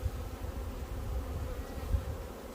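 Honeybees fly around an apiary, including a newly arrived swarm, in a close, continuous low droning buzz that swells slightly and stays steady throughout.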